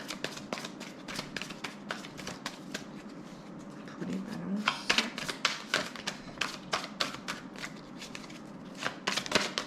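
Oracle cards are shuffled by hand during a tarot-style reading, a steady run of quick papery riffles and taps, close and fairly loud, with brief speech over it.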